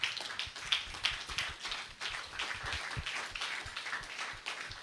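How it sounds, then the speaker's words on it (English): Audience applause for an event team at a Q&A session, a dense, sustained crowd clapping that fills the room steadily from start to finish with no voices over it. "Can we give a round of applause for them?"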